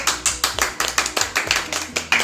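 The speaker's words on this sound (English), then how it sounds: "Clap." Hands clap at a quarantine birthday celebration: a steady run of about ten sharp, close claps in quick even rhythm, with no talk over them.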